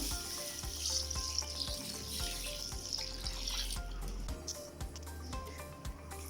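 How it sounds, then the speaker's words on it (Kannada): Basmati rice being washed in water in a home kitchen, with steady running and splashing water and rhythmic light knocks throughout, loudest in the first half and then quieter and sparser. "ನಾನು ಈ ಅಕ್ಕಿಯನ್ನು ಚೆನ್ನಾಗಿ ತೊಳೆದು ಒಂದು ಅರ್ಧ ಗಂಟೆ ನೆನೆಸಿಟ್ಟಿರ್ತೀನಿ."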